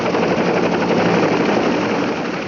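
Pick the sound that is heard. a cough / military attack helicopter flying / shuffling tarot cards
military attack helicopter flying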